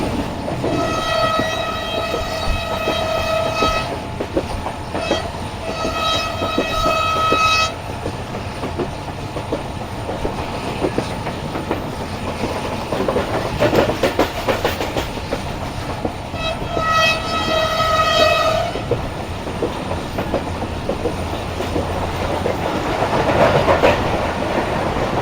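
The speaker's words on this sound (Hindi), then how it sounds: "ये ट्रेन हमारी इस वक्त लुंडो रेलवे स्टेशन को स्किप करने के लिए जा रही है आगे।" The Sukkur Express passenger train runs on its tracks, with loud continuous rumbling and clattering of wheels on rails, interrupted by two long blasts of the horn near the start and a third later on.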